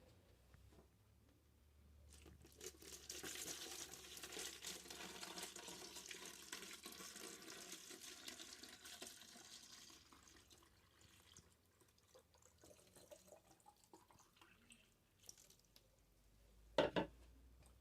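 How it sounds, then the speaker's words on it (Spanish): Water pours from a jug into a plastic bottle, a soft, steady rushing stream that lasts several seconds before tapering off, followed by a brief sharp knock near the end, all quiet and close. "llenar la botella de agua"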